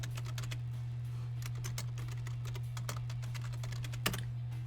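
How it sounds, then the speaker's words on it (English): Slow typing on a computer keyboard, with separate key clicks at an unhurried, irregular pace and one sharper tap near the end, over a steady low electrical hum. "Slow typing for the win."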